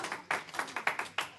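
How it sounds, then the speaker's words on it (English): A small audience at a design meetup gives a brief round of applause, a handful of distinct, close claps spaced irregularly over about a second and a half. "Round of applause."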